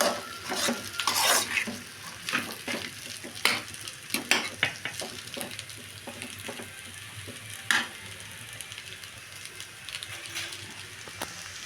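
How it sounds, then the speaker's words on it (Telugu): Noodles being stirred and tossed in a hot pan, a low sizzle under frequent irregular scrapes and metallic clinks of a utensil, close, no one talking. "కొంచెం దీనికంతా పట్టేటట్టు మనం కలుపుకుందాం"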